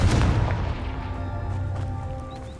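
A Confringo fire spell in Hogwarts Legacy bursts with a loud, close boom and then rumbles and crackles away over a couple of seconds.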